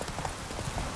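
A horse's hooves clip-clop steadily in The Witcher 3 game, a brief run of soft, muffled footfalls under a hazy background.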